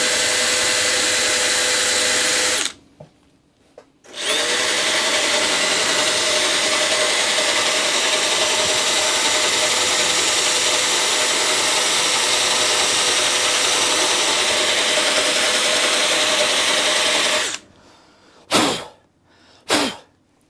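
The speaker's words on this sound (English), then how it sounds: "Drills have enough torque. You don't need any specialty tools." A cordless power drill whirs steadily for a long stretch, loud and close, removing a part from a mini truck, then stops and restarts in a few short bursts with no talk.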